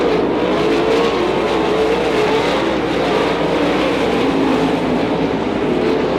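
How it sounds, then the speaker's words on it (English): Loud, continuous roar of sprint cars racing at full throttle on a dirt track, a dense, steady drone of several cars circling without pause. "Laying the rubber down in turn number 1, Baylog has found a groove that he likes goi"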